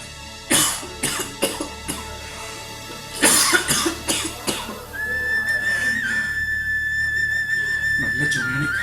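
A person coughs in harsh bursts, two clusters of several coughs each, loud and close, before a steady whistle-like tone sustains over background noise.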